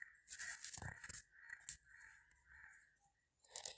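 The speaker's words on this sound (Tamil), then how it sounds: "இப்போ நான் துபாயில் இருக்கனால காக்கா கத்திட்டே இருக்குது" Crows caw repeatedly in Dubai, harsh nasal calls overlapping in quick succession at moderate distance, with a louder burst at the end.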